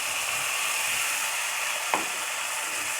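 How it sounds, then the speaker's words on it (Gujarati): Tomato puree tipped into hot oil for a dhaba-style Ratlami sev tameta curry, giving a steady hissing sizzle throughout with one brief clatter partway through, no talking. "જેવું થોડું ગરમ થાય એટલે તરત જ આપણે જે ટમેટાની આપણે પ્યુરી બનાવેલી હતી એ એડ કરી"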